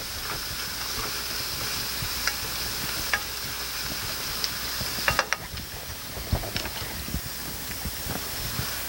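Potatoes and onions frying in a pan, with a steady close sizzle throughout and a few scraping clicks of stirring around the middle.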